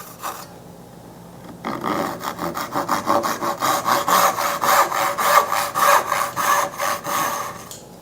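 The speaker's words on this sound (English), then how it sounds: "Let the saw do the work." A hand saw cuts dovetails in a wooden board with light pressure, giving a steady run of close, rhythmic rasping strokes, about a dozen back-and-forth passes with no talk.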